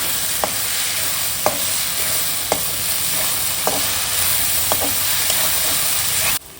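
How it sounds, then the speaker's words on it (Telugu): Ginger garlic paste fries in hot oil with a steady close sizzle, broken by regular spoon taps against the pan roughly once a second, before the sizzle drops away abruptly at the end. "ఇప్పుడు ఈ అల్లం వెల్లుల్లి పేస్ట్ పచ్చివాసన పోయేదాకా మనం ఫ్రై చేసుకోవాలి."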